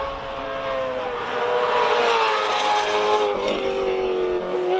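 A classic Alfa Romeo GTV, rear-wheel drive and presumably on side-draft carburettors, drives on a race track at a Cape Town classic car speed event, its engine note loud, close and rising steadily through a gear.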